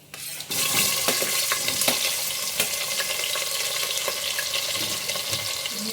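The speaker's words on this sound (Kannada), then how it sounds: "ಗೋಲ್ಡನ್ ಬ್ರೌನ್ ಬರೋವರೆಗೂ ಸ್ವಲ್ಪ ಫ್ರೈ ಮಾಡ್ಕೊಳ್ಳಿ" Onions fry in hot oil in a pan with whole spices, cooking toward golden brown for menthe bath, a loud steady sizzle that bursts in abruptly and holds with small crackles throughout.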